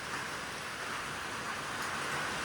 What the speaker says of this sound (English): Yeah, it's raining right now.